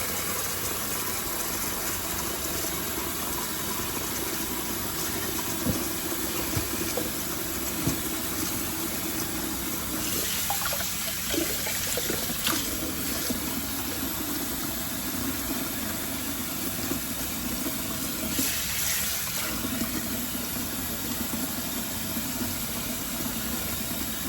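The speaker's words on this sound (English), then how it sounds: "So I'm gonna go ahead and wash them in the sink" Tap water streams steadily into a sink while store-bought scallions are washed, a constant hiss with a few brief splashes and shifts as the stream hits the greens.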